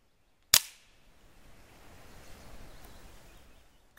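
A Feinwerkbau 300 S air rifle fires one sharp, loud shot at a shot glass hung as a 17 m target, followed by a quiet stretch of faint outdoor ambience.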